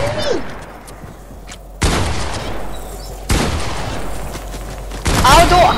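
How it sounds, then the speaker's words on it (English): Gunshots from a Fortnite match, with sharp broadband blasts at about 2, 3.3 and 5 seconds that carry into a steady rumble of game noise, while players talk throughout. "Why is Ian shooting me"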